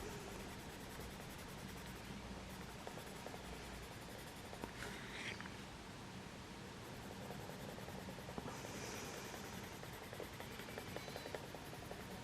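Derwent Pro Colour pencil colouring on paper with a light hand, producing a faint, continuous scratchy squeak of strokes across the sheet, quiet and alone.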